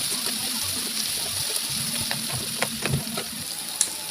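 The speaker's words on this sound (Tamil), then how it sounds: "வெங்காயம் தக்காளி கொஞ்சம் வதங்கட்டும்." Onion and tomato sautéing in a pan for a Tamil-style thokku: a steady close sizzle with scattered stirring clicks and a few sharper scrapes near the end, no talking.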